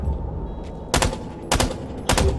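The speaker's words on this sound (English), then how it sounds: "you can change your weapon from full auto to burst fire" Three evenly spaced, punchy gunshot bursts from a weapon set to burst fire in Rainbow Six Extraction, loud and close over a steady low ambient hum.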